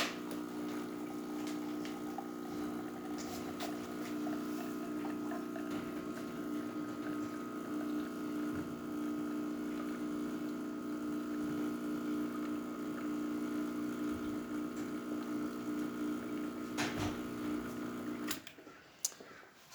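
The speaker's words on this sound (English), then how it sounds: "the pump's coming right up there at a good level" A Pasquini G4 espresso machine pump, freshly serviced, runs with a steady mechanical drone and low humming tone continuously, then cuts off abruptly near the end.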